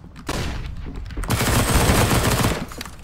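Rapid AK rifle fire in the video game Counter-Strike, a dense burst of loud shots that starts after a brief gap and runs continuously to the end, with no talk over it.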